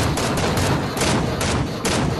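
Dense, continuous SMG fire in Fortnite rattles loud and close, a rapid unbroken stream of shots with a few slight surges over about two seconds.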